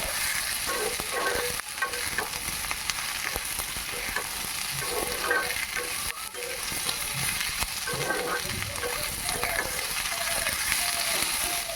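Quartered onion pieces stir-fried in a pan over a high gas flame for egg chilli, with a steady loud sizzle and repeated scraping and clacking of a spatula throughout.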